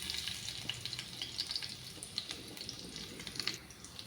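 Chana dal and small garlic cloves frying in oil for a Telugu masala fry, giving a soft, steady sizzle with faint crackles and pops, low and close, with no one talking.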